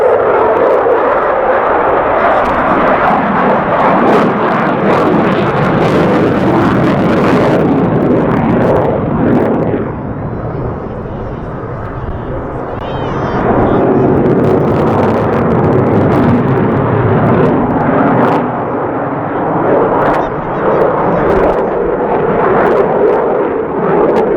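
A Eurofighter Typhoon FGR.4 jet at the Duxford air show roars loudly and continuously, its thundering engine noise dipping briefly before surging again.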